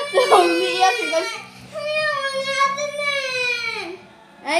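A child cries loudly nearby in drawn-out, wavering wails and sobs, with short breaks between cries.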